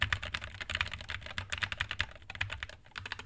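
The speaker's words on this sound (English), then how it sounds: "The sound of these keys is really nice." Rapid, close clicking keystrokes come from a Redragon K556HE magnetic keyboard in an uneven, fast typing rhythm of moderate loudness, with no voices over it.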